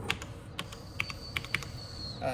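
Keys are pressed on an ETC Eos lighting console keyboard, a few sharp distinct clicks spaced irregularly with faint room noise between them.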